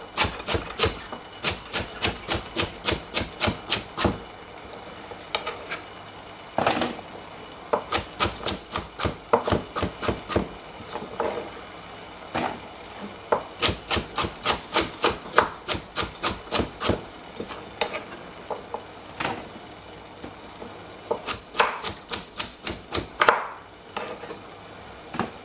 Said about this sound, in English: Now I'm gonna cut up the carrot.